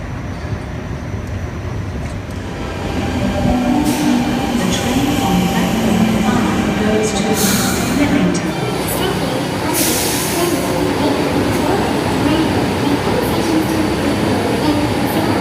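A New South Wales train rumbles steadily close by at a railway station after a quieter start, with rhythmic clatter and a few sharp high squeals, while faint voices carry underneath.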